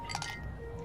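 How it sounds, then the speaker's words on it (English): Ice cubes clink softly against the glass of a chilled fruit tea in the Love and Deepspace game, a few light, bright taps early on over a low steady background hum. "Ice cubes clink softly as Xavier holds the chilled fruit tea against my cheek"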